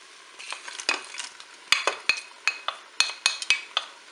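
Spoon stirring carrots and mushrooms in a Cookeo electric pressure cooker pot, close and alone: a run of sharp scraping clicks and clinks against the pot, irregular at first, then steadier strokes under a faint sizzle.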